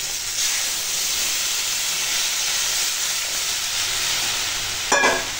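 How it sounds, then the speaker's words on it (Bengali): Steady sizzling hiss of spiced vegetables frying in a pan for a small-fish rohu curry, with a brief burst of louder crackle near the end as water is poured in. "এইবার দিয়ে দেবো জল।"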